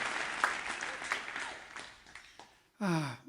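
A studio-audience applause sound effect from an app plays during a live stream, a brief burst of clapping that fades out before a different tonal sound cuts in at the end.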